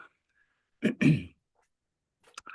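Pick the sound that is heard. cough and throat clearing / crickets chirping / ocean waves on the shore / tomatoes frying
cough and throat clearing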